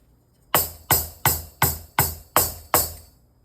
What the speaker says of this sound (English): the hi-hat will generally make a sound like this